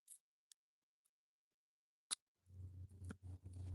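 Scissors trim excess paper from a handmade art card: a few faint, isolated snips are spaced apart in quiet, then closer paper rustling and handling noises follow.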